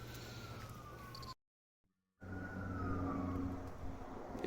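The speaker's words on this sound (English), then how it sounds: "It's starting to sound like Bradenton around here with all these damn sirens" Distant emergency vehicle sirens wail as a thin gliding tone over steady outdoor background noise, broken by a short dropout of near silence midway.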